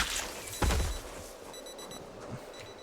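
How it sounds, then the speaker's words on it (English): A watch alarm in a zombie video game beeps in faint, high repeated pulses over a low game background, with a brief thud near the start. "I don't think they hear the watch alarms."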